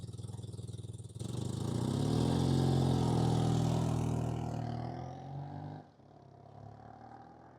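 A rebuilt 1987 BMW R100RS motorcycle engine starts up close by, swells into a loud, rough, steady run, then winds down and settles to a lower idle.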